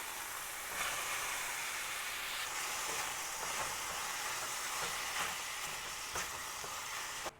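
Shrimp hits a hot pan already holding garlic and shiitake mushrooms for a quick stir fry with Napa cabbage. A steady, close sizzle runs throughout, with a few scraping stir clicks.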